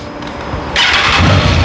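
A Triumph Trident 660 three-cylinder motorcycle engine cranks and catches partway through, settling into a loud, steady idle close by.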